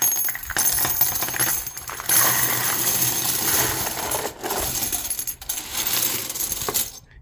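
A box of collectible copper dragon coins poured out, a long continuous metallic jingle and clatter of many coins tumbling together, close and loud, with no talking.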